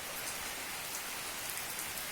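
Steady morning rain falls over the hill town of Mcleodganj in cold weather, a dense, unbroken hiss of drops on surfaces with no voices.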